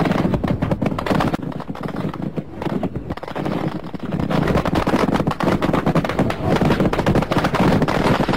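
Continuous 37mm anti-aircraft gunfire from Chinese warships off a Spratly Islands reef, dense rapid bursts of shots mixed with heavy noise and blast, loud and unbroken throughout.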